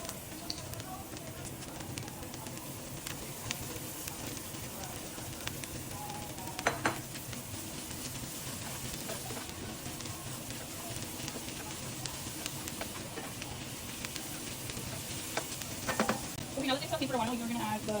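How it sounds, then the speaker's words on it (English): Peppers and onions sauté in a pan for tacos al gobernador. A steady, close sizzle and crackle runs throughout, with a few spoon stirs and scrapes, and faint talk sits in the background. "We're gonna let this saute for a few minutes, and then we're gonna add the chile pasilla"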